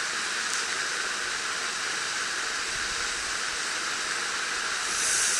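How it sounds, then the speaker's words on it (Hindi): Baking soda poured into vinegar fizzes vigorously, a continuous close hiss of bursting bubbles that holds steady for several seconds and swells slightly near the end. "जैसे ही मैं सिरके में बेकिंग सोडा डालूंगी, खाने का सोडा डालूंगी, तो कैसे अभिक्रिया होगी।"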